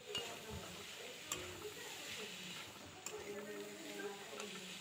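Spiny gourd fries in a pan with chopped coriander, a soft, quiet sizzle broken by a few sharp clicks and scrapes of stirring at irregular intervals.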